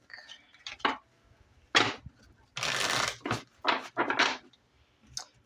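Several quick, crisp bursts of cards being shuffled and riffled, close by, with short pauses between them and a faint voice in the background.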